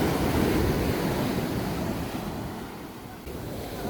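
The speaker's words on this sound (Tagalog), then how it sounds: "Lakas ang alon, no, tatangin ka niyan." Strong surf at a beach in Cabangan, Zambales, Philippines, rolls in continuously, a loud broad wash of breaking waves that eases slightly toward the end, with wind buffeting the mic.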